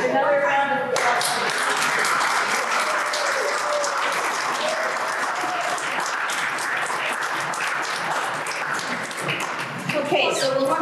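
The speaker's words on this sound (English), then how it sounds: "Another round of applause." Sustained audience applause fills a lecture hall, a steady wash of many hands clapping for about ten seconds, with a brief voice at the start and fragments of talk near the end.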